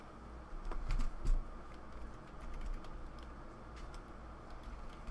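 Rapid typing on a computer keyboard at close range, a steady run of light plastic key clicks with a few louder taps, no voices over it.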